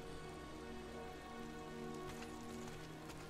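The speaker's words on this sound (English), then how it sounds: "Oh my gosh, and it's raining." Rain falls in the video game Days Gone as a faint, steady hiss with scattered drop patter over a low background hum, with no talking.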